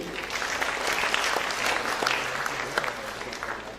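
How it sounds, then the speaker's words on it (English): Audience applause fills a hall at a national science congress in Chandigarh, a steady dense wash of many hands clapping together, fairly loud and sustained throughout with no voices standing out. "A big round of applause, ladies and gentlemen."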